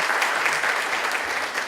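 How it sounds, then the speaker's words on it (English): A luncheon audience breaks into loud, sustained applause, a thick continuous wash of many hands clapping close by with no pause. "Would you give her a round of applause?"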